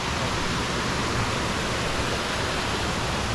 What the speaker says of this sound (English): we'll just hear the rushing water and maybe less music